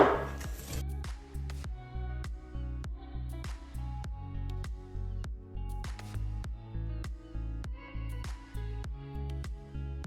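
Almond powder and coconut being mixed for muffins, a utensil striking the bowl in a steady rhythmic series of close, crisp knocks over a low continuous background.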